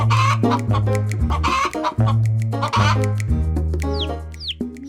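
A hen clucks and calls in a series of loud, close, rhythmic bursts with short pauses between, ending in a few higher squawks, heard alone without talk.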